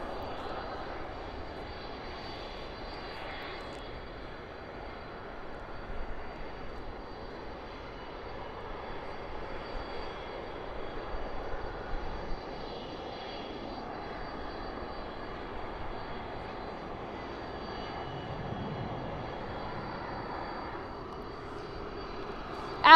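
Distant Boeing 747 jet at Dallas/Fort Worth airport at night, heard as a faint, low, steady engine rumble that swells slightly in the middle, with no talking.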